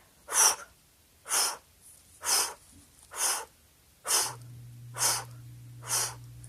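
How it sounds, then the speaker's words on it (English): Seven forceful breath-of-fire yoga exhales pulsed from the belly through the nose, evenly spaced about a second apart and close up, with a low steady hum entering partway through. "we are going to work first with a breath of fire practice"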